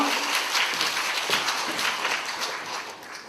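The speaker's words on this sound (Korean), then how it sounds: "박수로 맞이해 주십시오" An audience at a beauty academy lecture applauds to welcome a stylist onto the stage, a steady dense wash of clapping that holds for a few seconds and slowly tapers.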